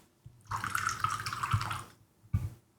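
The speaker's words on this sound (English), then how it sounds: "So I'm going to pour a little bit of pineapple juice on this." Pineapple juice is poured into a whiskey drink as a close, steady liquid stream lasting about a second and a half, ending with a brief splash.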